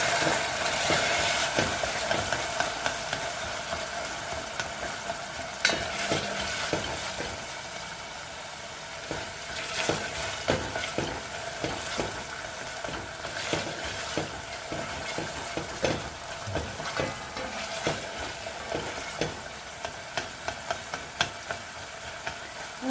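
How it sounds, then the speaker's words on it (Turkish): Tomato paste fries in a pot for a soup, with repeated scraping stir strokes over a soft, steady sizzle, close and moderately quiet, with no talking. "Asidi çıkasıya kadar kavuruyorum salçayı."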